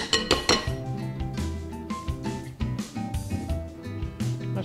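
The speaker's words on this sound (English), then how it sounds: "I'll stir it up again, try that again." Guacamole being stirred in a bowl gives off repeated clinks and scrapes of a utensil against the dish, close and moderately loud, with an irregular rhythm throughout.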